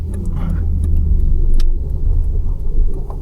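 A manual car's engine revs up and falls back during throttle blips for rev matching. It is loud and close, a steady low rumble with a rise and dip in pitch, and no one speaks.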